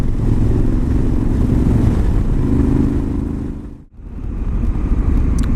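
A Honda Africa Twin motorcycle cruises in D mode over patched, potholed roads, its engine a steady loud drone with rushing wind that dips briefly near the end before resuming.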